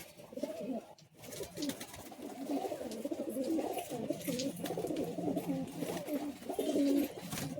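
Pigeons coo steadily in a loft at Bagnan, the low throaty rolling calls overlapping almost continuously, close and fairly loud, with no talking.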